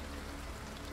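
Steady rain in the Lorelai adventure game, a faint, even hiss of falling water with no distinct drops, alone.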